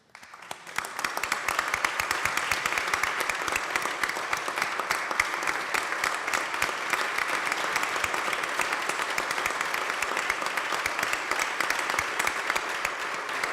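Steady, sustained applause fills the New York State Senate chamber for about thirteen seconds, a dense even clapping from many people with no pauses.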